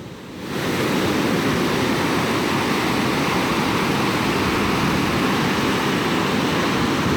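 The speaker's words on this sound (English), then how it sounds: "I know what them waves can do. They sneak up on you." Atlantic Ocean waves on the coast of Ghana roar as continuous, loud broadband surf, a steady wash of crashing water close by that begins after a brief quieter moment and holds without a break.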